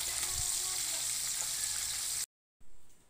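Steady, close sizzling and crackling of food frying in a pan, cutting out abruptly into a brief silence before resuming more quietly.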